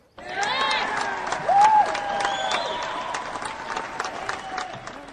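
A large crowd cheers and applauds at a settlement speech in the Fallout 4 game, a steady wash of clapping and shouting with a few louder whoops standing out, no talking over it.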